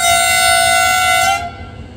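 A loud, sustained, multi-tone horn blast from a Pakistan Railways EMD HGMU30 diesel locomotive at the Karachi locomotive shed cuts off abruptly after about a second and a half, leaving a low rumble.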